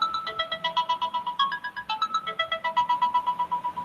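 A phone ringtone plays a bright, repeating electronic melody in steady pulses, loud and close, with no talking over it, in a lecture setting.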